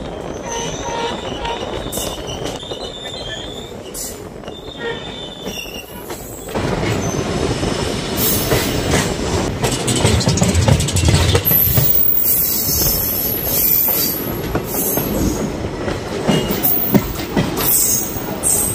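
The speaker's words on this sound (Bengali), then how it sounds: "ট্রেন এখন ঢুকবে নিউ বঙ্গাইগাঁও জংশনে" A local train in Assam rolls into New Bongaigaon Junction, its wheels squealing and carriages rattling. The rumble swells louder partway through and holds close and continuous, with no talking.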